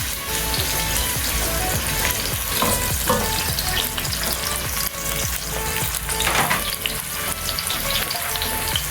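Chopped onion frying in a pan for vegetable fried rice, heading toward golden brown: a loud, dense, continuous sizzle and crackle up close, with brief stirring scrapes and no talking.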